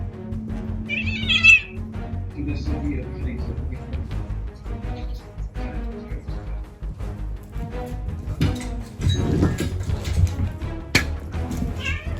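Cats meowing in a game, a few short mews and a drawn-out cry over steady background music and game sounds, no clear talk.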